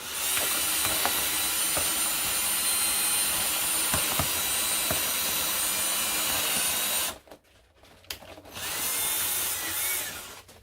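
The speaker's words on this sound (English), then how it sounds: "Maya took a drill and he drilled a hole right in the bottom of these cups" A power drill whines continuously at close range, drilling holes in the bottoms of plastic cups, stops briefly with a few clicks, then starts up again.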